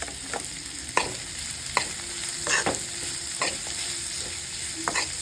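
Mutton pieces frying in a pan with garlic and onion for a spicy dry boti sukka, giving a steady loud sizzle with repeated scraping stirs of a spoon against the pan at regular intervals.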